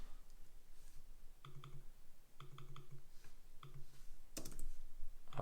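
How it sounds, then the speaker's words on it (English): Computer keyboard typing in short bursts of crisp clicking keystrokes separated by brief pauses, close and moderately quiet, with no speech. "we type in our first question"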